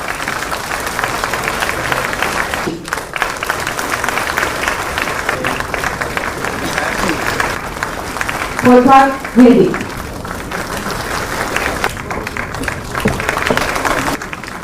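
Steady applause from an audience at a government appointment-letter ceremony where the Chief Minister hands out jobs to selected candidates, clapping running continuously throughout with a few brief lulls and some voices mixed in.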